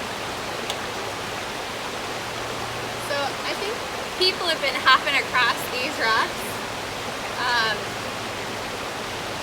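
A river flows over rocks in a steady, close rushing wash that fills the whole scene, while someone talks over it in several short bursts.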